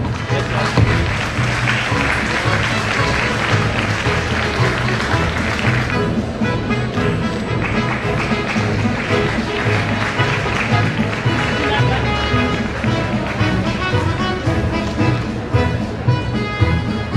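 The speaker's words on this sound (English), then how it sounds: "Students, the applause must not stop." Students applaud at a school investiture ceremony, a dense, steady wash of clapping that fills the hall for the whole stretch, with a tonal layer joining in partway through.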